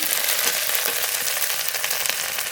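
Cumin and ginger spice paste frying in a pan, a steady dense sizzle with bubbling crackle running throughout, close and fairly loud, with no voices.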